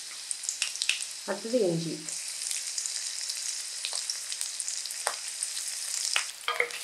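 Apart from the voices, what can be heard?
garlic and ginger frying in oil on high heat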